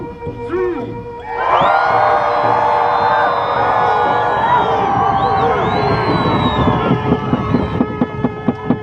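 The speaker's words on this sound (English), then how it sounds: "Families, one big cheer on the count of 3." A crowd of families lets out one big, loud, sustained cheer of shouts and whoops that carries on for several seconds and then breaks into scattered rhythmic claps and calls.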